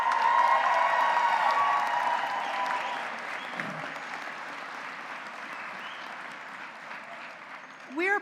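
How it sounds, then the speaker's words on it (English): Large crowd at a university commencement ceremony applauding family and friends, sustained clapping that slowly fades, with a brief voice at the very end. "Let's give our family and friends a big round of applause."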